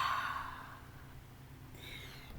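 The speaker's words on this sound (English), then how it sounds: "Let's take one clearing breath in through the nose and out through the mouth." Breathing out slowly and audibly through the mouth during a hatha yoga session, a close, soft sigh-like exhale that fades over a couple of seconds, followed by a faint breathy sound.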